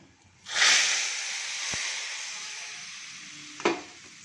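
A hot spice tempering poured into a cauliflower gojju bursts into a loud, close hiss that slowly fades, with a sharp crackle near the end.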